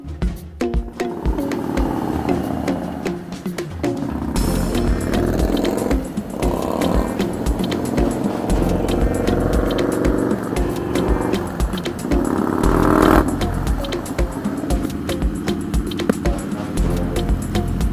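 Harley-Davidson Electra Glide 2020 motorcycle on the move, a loud continuous engine drone with shifting revs and rough low rumble, and brief changes in pitch as it pulls away and cruises.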